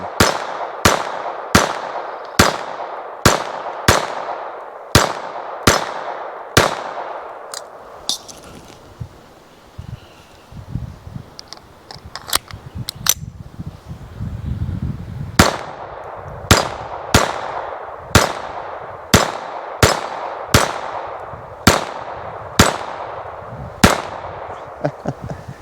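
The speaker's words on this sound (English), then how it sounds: "I'm going to go ahead and load up a couple more rounds, throw a few more on target" Smith and Wesson Victory target pistol firing at a range, sharp loud reports in steady strings of about seven shots, then a quieter pause with handling clatter and rustle, then another even string of shots.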